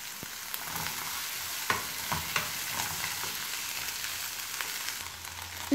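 Onion, garlic and red and yellow bell pepper sauté in olive oil for a plantain moqueca, giving a soft continuous sizzle broken by a few light clicks of a spoon stirring the pan.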